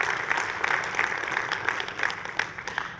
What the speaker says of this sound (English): let's take a moment to give everyone a round of applause for Code Builder going GA this year